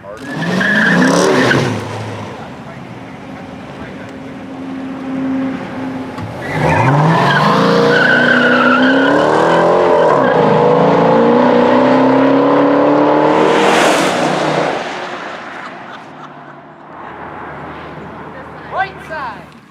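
Drag racing cars launch hard down a drag strip at a Pros vs Joes race event: loud engine roars climb in pitch with squealing tires, rising and fading over several seconds, with a brief quieter gap between bursts.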